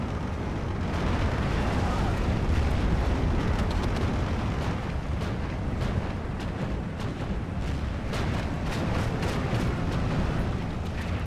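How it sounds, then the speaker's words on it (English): Bombs from an air strike explode in the Steel Division 2 strategy game, a dense, continuous roar of blasts and rumbling booms with scattered sharp bursts throughout. "I'm not quite sure if those bombs actually dropped. Okay, they did stun some airsoft too"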